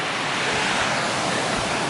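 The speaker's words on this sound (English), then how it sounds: "sweet little waterfall here." A small mountain waterfall on a Cline River hike gives off a steady, loud, broadband rush of falling water, close by and unbroken, with no voices over it.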